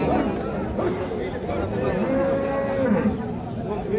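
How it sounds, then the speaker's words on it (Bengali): Sahiwal bull and other cattle at a busy livestock market, with several low, drawn-out moos rising over the constant chatter of a crowd of people. "এটাও শাহিওয়াল জাতের ষাঁড় গরু"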